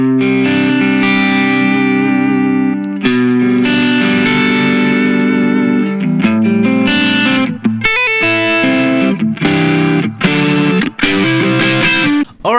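A distorted, overdriven electric guitar plays a rhythm part of chugging chords and choppy stabs with clipped pauses. It is loud and up close, with some echo and chorus colouring, and no one talks over it.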